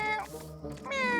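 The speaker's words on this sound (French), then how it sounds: "Pourquoi tu miaules?" A cartoon cat in the French animated series Pyjamasques meows twice, loud and close, with a short break between the two calls.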